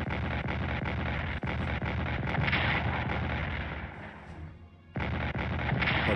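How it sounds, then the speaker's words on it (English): Heavy artillery bombardment in the World War 1 strategy game Strategic Command, a loud dense rumble of repeated booming blasts that briefly dips before surging back. "They're bombing the living hell out of us."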